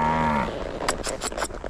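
A newborn calf gives one short, close, tonal moo on a farm where a new mare is being used for roping, followed by a few faint knocks and shuffles.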